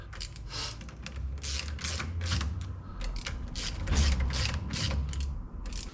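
Rapid ratchet clicking in repeated bursts as the wheel hub bolts on a Daimler Ferret armoured car are pulled down one after another, close and fairly quiet.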